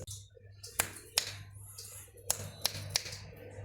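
A few sharp, dry finger snaps, about five spaced irregularly over a few seconds, fairly close, over a steady low hum with faint background voice.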